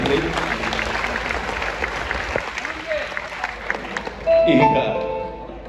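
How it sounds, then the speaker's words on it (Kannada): A crowd at a stage event claps for SPR, a short burst of applause rising near the end under a presenter's voice. "SPR ಅವರಿಗೆ ಒಂದು ದೊಡ್ಡ ಚಪ್ಪಾಳೆ"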